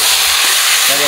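Peanuts roast in hot oil, giving a loud, dense hiss of frying that fills the short stretch evenly, with a faint voice-like murmur near the end.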